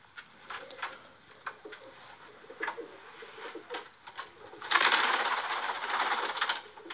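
Old Polish pigeons in a loft give soft coos and faint calls at a fair distance, with light rustling and a louder burst of flapping or scuffling near the end.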